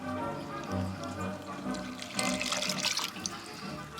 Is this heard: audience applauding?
no